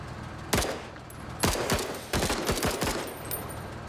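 A marksman rifle in a video game fires several loud, sharp shots in quick succession, with distinct echoing cracks spaced a fraction of a second apart.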